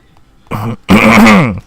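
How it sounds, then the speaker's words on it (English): A short rough cough followed by a longer, heavy throat-clearing cough, loud and close, with silence around them. "sorry for all the coughing today"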